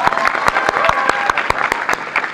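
Applause from a college audience for the man of the match at an inter-law-school football award gathering, a handful of sharp distinct claps at a fast irregular rhythm, close and fairly loud with crowd murmur beneath.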